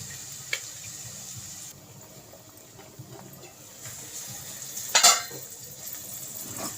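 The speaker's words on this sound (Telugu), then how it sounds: "మసాలా ముద్దని బాగా వేపుకోవాలండి పచ్చివాసన పోయేంత దాకా బాగా వేగాలండి" Masala paste frying in oil in a home kitchen pan, a soft steady sizzle with occasional stirring scrapes and a brief louder clatter near the end, no voices.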